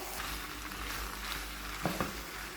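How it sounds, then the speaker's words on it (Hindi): Boiled spaghetti stir-fries in a pan for chicken chow mein, giving a soft, steady sizzle. Two brief scraping clunks of stirring come near the end, and no one speaks. "अब इसमें स्पेगेटी डाल देंगे जो हमने बॉईल करके रखी है, वो डाल देंगे इसमें। इसे मिक्स कर लेंगे।"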